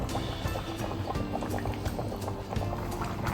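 Ham with red wine and small potatoes simmers in a covered pot, producing a steady, close bubbling and gurgling with small pops throughout.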